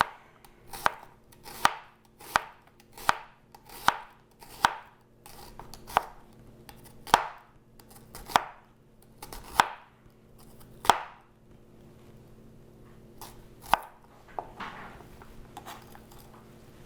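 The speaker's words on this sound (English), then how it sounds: "And I'd like to cut the onions thin for this since they seem to brown up a lot nicer." A knife chops onions thinly on a cutting board, a steady run of about a dozen crisp, close knocks, then two more spaced strikes after a pause, with no talking.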